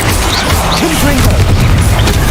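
A Confringo blasting spell bursts in a Hogwarts Legacy duel, a loud, full-bodied boom over a constant roar of battle noise, with voices heard in the mix.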